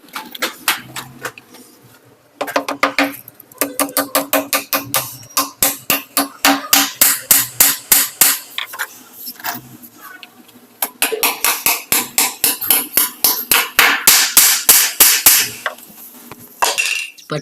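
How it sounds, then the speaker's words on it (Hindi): Rapid bursts of hammer blows drive nails into wood while building a slide, sharp repeated knocks in quick runs separated by short pauses, loud and close. "तो पहले जल्दी जल्दी भाई साहब के साथ कीले ठुकवाने लग।"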